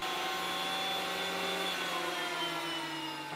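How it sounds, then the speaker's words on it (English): Wood boards being run through a jointer and thicknesser in a workshop: a steady loud machine whine with sustained humming tones that holds evenly for a few seconds, ending with a brief knock. "I'll square up two edges at the jointer and then run them through the thicknesser"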